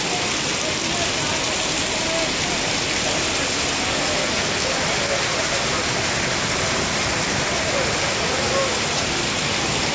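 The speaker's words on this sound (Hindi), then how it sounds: "इस वक्त मूसलाधार बारिश बरसने का सिलसिला जारी है" Heavy torrential rain pours down steadily in Gulpur, Kotli, Azad Kashmir, making a dense, unbroken hiss like rushing water that holds at the same level throughout, with no voices.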